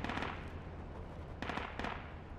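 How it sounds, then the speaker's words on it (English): Mortar fire in a video game, a few booming blasts with rumbling tails, one early and two more in quick succession later, distant and fairly faint. "there's a shooting mortar at that bot now"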